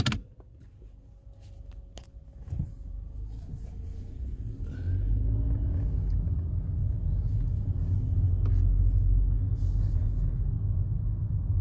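A 2015 Nissan Altima with a four-cylinder engine is driven, heard as a low engine and road rumble that swells after a few quiet seconds and then holds steady and loud.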